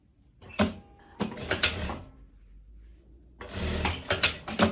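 A sewing machine stitching a seam on a loose summer dress runs in short bursts of rapid mechanical clatter, pausing in between, close by with no talk.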